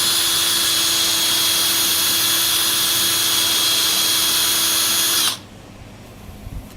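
Abrasive sanding with 180 grit against a spinning woodturned piece on the lathe, a steady bright whirring drone under the motor hum that runs for about five seconds and then cuts off abruptly into near silence.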